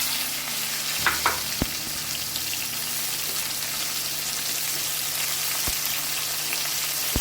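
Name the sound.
karonda fruits frying in hot mustard oil with garlic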